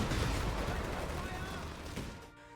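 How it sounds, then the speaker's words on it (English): A rifle shot from a tactical shooter game mod: a loud, dense blast with a full body and a long, rolling tail that fades gradually before cutting off sharply. "we wanted this fire shot to cut through the mix to give it some presence, mark a difference with other rifles"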